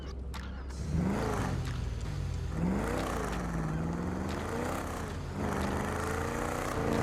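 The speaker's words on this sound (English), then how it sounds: "I could still enjoy the sound of the Rat Truck." A Rat Truck engine in GTA Online revs hard and steadily throughout, its tone climbing and falling in repeated sweeps, loud and close with no talking.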